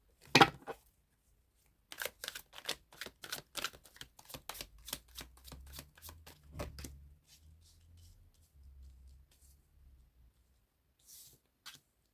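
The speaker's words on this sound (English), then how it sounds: "I've had a few cards that have fallen out here." A deck of tarot cards handled and shuffled close by, a quick run of crisp flicks and riffles followed by softer rustling and a couple of isolated taps, with no talking.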